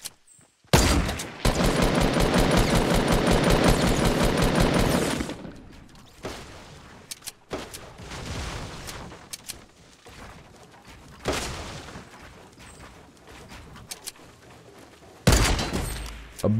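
Gunfire in Fortnite, a long rapid burst of shots followed by scattered single heavy shots, including a sniper shot, with quieter stretches between, loud and close.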